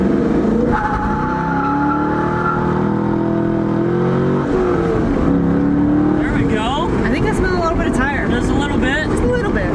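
Corvette C5 with a manual transmission and 275-width tires, engine revving and pulling hard under acceleration with rising harmonic tones, loud and close throughout, with people talking over it near the end.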